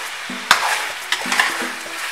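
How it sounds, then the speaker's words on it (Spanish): Chicken frying in a pan and being turned while cooking for Dominican asopao, a short burst of sizzling with scraping, clattering turns of the pieces, close and fairly loud. "Dejamos sofreír ahí por 10 minutitos. Vamos a voltear el pollo."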